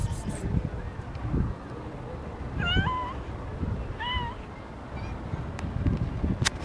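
Stray kitten on a street in Grajaú meowing twice, short rising-falling cries close to the microphone, with wind noise and low rumble in the background.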